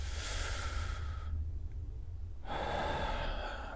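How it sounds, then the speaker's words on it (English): Deep breathing drawn into the chest, heard as two long, loud breaths close to the microphone, an inhale and then an exhale, with a short quiet pause between them and no talking. "breathing more into the chest is a little bit more difficult for me personally."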